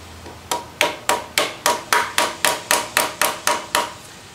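Hammer tapping a part onto the engine shaft of a 4-stroke bike engine, about fourteen sharp, evenly spaced metallic taps in a steady rhythm, close and clear with nothing else heard.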